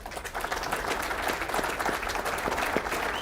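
Steady applause from an audience at a city's State of the City address in Glens Falls, many hands clapping densely and continuously throughout.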